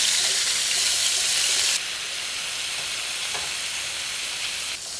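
Carrots sizzle in a hot pan, a steady hissing fry that drops slightly in intensity partway through and continues evenly, close and clear with no voices.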